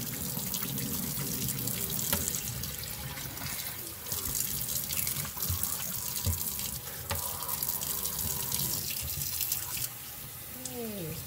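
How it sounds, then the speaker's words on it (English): Warm tap water runs steadily into a kitchen sink as banana leaves are gently brushed and washed, giving a continuous splashing stream with small shifts in the flow and faint rubbing, fairly quiet and close. "turn on the warm water in the sink and slowly and be very gentle with brushing the banana leaves, cleaning it like this."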